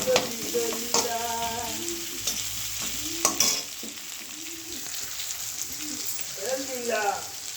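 Onion frying in a pan, a steady hiss of sizzling with occasional stirring scrapes, heard close up while people talk and voices rise at times over it.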